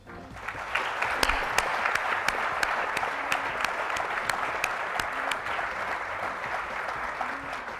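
A hall audience at a healthcare heroes awards event claps steadily and fairly loudly, a dense wash of many hands with a few sharper nearby claps standing out, sustained throughout.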